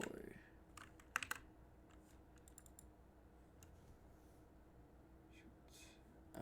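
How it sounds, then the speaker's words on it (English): Computer keyboard keys clatter in short irregular bursts while someone codes a game project, faint and close, with a few sharper clicks and soft background room noise. "Keyboard."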